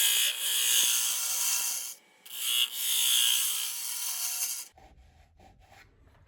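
A lathe tool cuts wet wood with a close, raspy scraping hiss in long strokes, broken by a short pause, then stops and leaves faint low rumbling and light taps.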